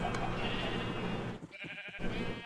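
Sheep in the Minecraft modpack Agrarian Skies bleat over a dense background of game sound, a brief bleat or two heard loud and close, followed by short clicking blips.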